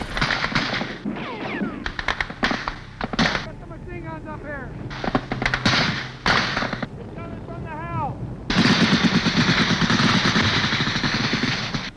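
Explosion at an ammunition depot on a military forward operating base: loud gunfire-like blasts and booms in bursts, ending in a sustained roaring blast, with brief voices shouting in between.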